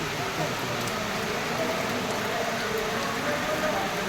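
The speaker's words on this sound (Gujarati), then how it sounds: "વરસાદ ચાલુ છે એટલે" Steady rain falls throughout, a dense even hiss of drops with no pauses, fairly close and moderately loud.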